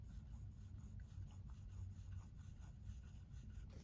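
Vintage Parker 51 fountain pen nib writing on paper, a quiet, steady scratch-free glide with soft continuous rubbing texture throughout, close and faint with no talking.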